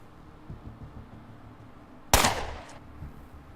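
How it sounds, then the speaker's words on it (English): Submachine gun firing in the video game Underrail, a single loud burst of shots that cracks in sharply and then fades into a decaying tail, with faint background thumps before it. "It's a submachine gun."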